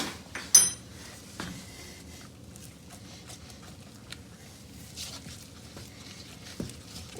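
Spoon scraping and clinking through a thick flour-thickened casserole mixture in a pot, a few soft irregular stirs and knocks close by, quiet overall.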